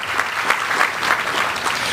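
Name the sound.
audience applause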